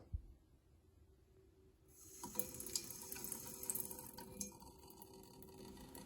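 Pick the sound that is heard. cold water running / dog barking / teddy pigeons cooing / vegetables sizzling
cold water running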